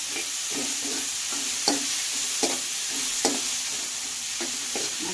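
Tomatoes frying with onions in a pan for a Telangana-style mutton curry, a steady sizzling hiss broken by repeated scraping stirs of a spatula, close and alone with no voices.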